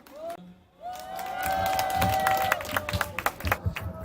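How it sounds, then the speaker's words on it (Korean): Crowd applause at a rally supporting nuclear power, rising after a brief tone into a dense spread of claps and cheering from a large outdoor audience, moderately loud and continuing for several seconds. "큰 박수 부탁드리겠습니다"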